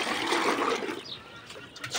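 Water pours into a container on a poultry farm, filled by the liter: a dense, steady gushing rush that eases into softer trickling, then surges briefly at the close.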